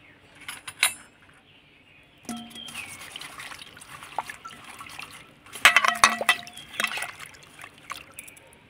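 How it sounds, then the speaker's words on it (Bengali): Leaves and datura fruits being washed by hand in water for an ayurvedic joint-pain oil: intermittent splashing and trickling with a few soft clinks of a utensil, close and fairly quiet, no talking. "তো এবার আমি পাতাগুলো ধুয়ে নেব, আর এই ধুতরা ফুলের ফলগুলো আমি ধুয়ে নেব।"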